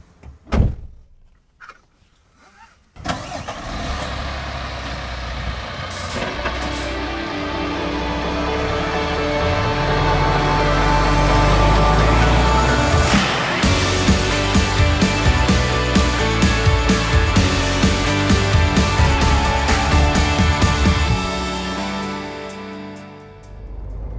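A MAN TGX truck: a few cab-door thuds, then a loud, sustained engine drone with road noise as the truck drives off, holding steady for about twenty seconds.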